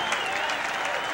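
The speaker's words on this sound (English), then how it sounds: "That's got to make you feel kind of goose pimply as everybody's standing and applauding." Lacrosse crowd at a 1985 Syracuse versus Rutgers game standing and applauding, a dense, steady wash of clapping that fills the whole moment at even loudness, with no voices rising above it.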